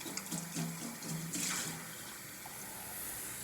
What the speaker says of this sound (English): So I'm just adding water to my tea over here.